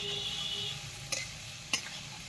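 Food being stirred and fried in a pan over a clay stove, steady sizzle with two sharp scraping clinks of the utensil, close and alone without talk.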